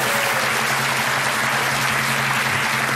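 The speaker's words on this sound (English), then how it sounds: "Give us a round of applause." A studio audience at a darts game show gives a round of applause, a dense, steady wash of clapping with a low hum beneath.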